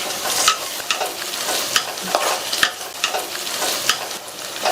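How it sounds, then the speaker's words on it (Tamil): Mint and coriander leaves sautéing in a pan, a steady close sizzle broken by repeated scraping stirs every half second or so, with no voices. "புதினா கொத்தமல்லியை லைட்டா ஒரு பரட்டிட்டு"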